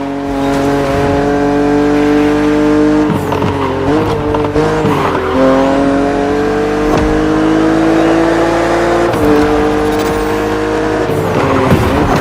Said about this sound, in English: BMW Z models are what we call roadsters. Two-seaters made for relaxing behind the wheel, appreciating the scenery and the thrill of speed.